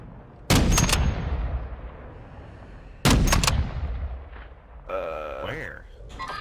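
Two loud, sharp gunshot blasts in a video game, each with a booming tail that fades over a couple of seconds, followed by a faint rising whine and muffled game sounds.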